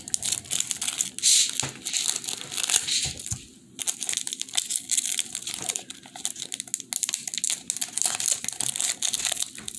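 A slim Spanish-language Pokémon TCG booster pack wrapper is worked open with steady foil crinkling and crunching close to the microphone, continuing in bursts for about ten seconds.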